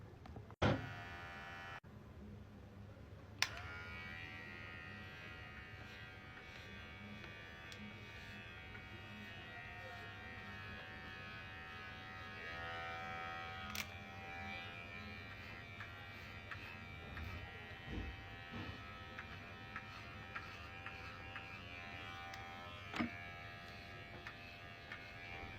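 An electric razor buzzes steadily against a man's beard, a continuous hum with a few brief clicks and bumps as it is moved over the face, faint and alone without talk.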